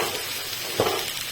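Mixed vegetables with a little salt frying and being stirred in a pan send up a continuous close sizzle, with a brief scraping stir near the middle.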